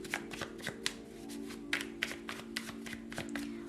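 Tarot cards being shuffled by hand in a quiet room, a series of quick, soft riffling and tapping bursts repeating in an uneven rhythm, close and fairly faint, with a low steady hum underneath.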